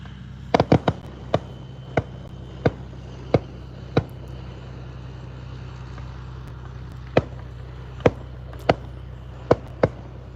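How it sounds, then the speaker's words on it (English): Fireworks go off at night, launched by one person from a home setup. Sharp, loud reports come one at a time at irregular intervals over a steady background hum, with a quick cluster near the start. "Much fireworks as he's launching here"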